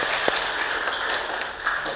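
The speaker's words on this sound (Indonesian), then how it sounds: "beri tepuk tangan untuk Utami" Classroom applause for a student during an Indonesian language lesson: a steady, dense patter of many hands clapping together, moderately loud and continuous across the whole stretch.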